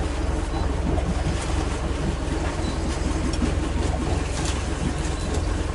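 A sailboat moves through wind and waves, with a steady, dense rush of wind and water splashing around the hull that continues without a break.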